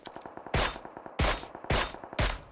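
Gunfire from the PUBG Mobile video game, with a quick rattle of lighter shots followed by four loud, sharp, evenly spaced reports.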